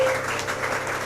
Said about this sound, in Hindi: पास्टर प्रभुदास तांबे हमारे बीच में आए, उनके लिए आप लोग जोरदार ताली बजा के उनके साथ